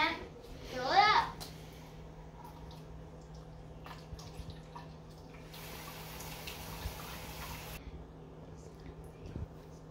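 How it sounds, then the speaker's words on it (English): A sink tap runs water into a bottle for fruit-infused water, making a soft, hissing stream for a couple of seconds. A voice and faint drips sound around it. "Then we're gonna go over to the sink and fill it up."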